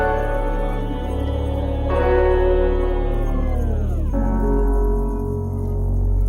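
Electronic music intro built around a piano with its filter opened, some elements pitched down, playing as a continuous full arrangement with sustained low end and a downward-gliding shift partway through, with no talking.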